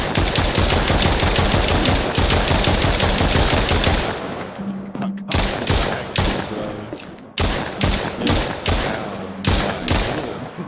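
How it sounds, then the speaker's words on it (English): Gunfire in a horror video game: a dense, loud burst of rapid automatic shots for about four seconds, then scattered single and clustered shots with short gaps, no talk. "let's just try shooting him more"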